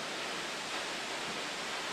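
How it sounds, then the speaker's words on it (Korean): A Yosemite waterfall plunging in three tiers, heard as a steady, dense roar of falling water with no letup, filling the air without any voices. "이 폭포는 모두 3단으로 나뉘어 천둥 같은 소리를 내며 바닥으로 낙하합니다"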